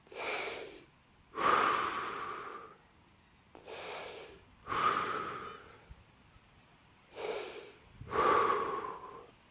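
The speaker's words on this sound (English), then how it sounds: "we breathe in and out through the mouth for 6 times" A person holding a calf stretch breathes in and out through the mouth, three full cycles of deep, airy inhales and exhales separated by brief quiet gaps, close and clear.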